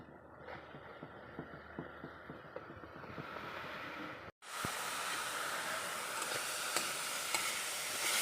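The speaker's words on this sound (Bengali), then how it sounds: "বন্ধুরা পেঁয়াজগুলোকে আমি ঘেটে দিচ্ছি।" Onions, with whole garlic cloves, being stirred in a frying pan, a steady sizzle with soft scraping strokes, quieter at first and then a brighter, louder hiss after a brief gap.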